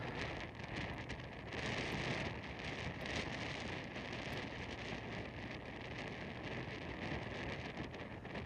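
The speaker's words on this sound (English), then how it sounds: "Now that's the wind noise you're hearing more so than the waves." Steady wind roaring across a microphone on the Oregon coast, a broad continuous rush with faint surf underneath, swelling slightly early on and holding constant throughout.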